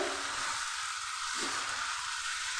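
Onions and spices sizzle in a hot pan, a steady, even hiss of frying that stays constant throughout, close and fairly quiet, with no talk.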